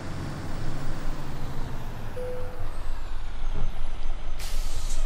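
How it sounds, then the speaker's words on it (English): In American Truck Simulator, a truck idles on a New Mexico road, then its parking brake engages with a short tonal beep and a rumbling engine, ending in a sharp, loud burst of released air. "Parking brake."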